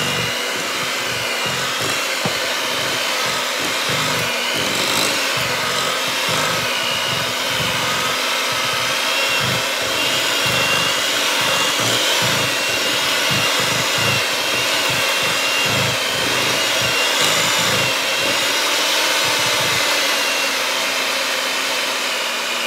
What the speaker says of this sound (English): So now I'm going to turn the mixer up. I'm going to fluff it and aerate it really nicely.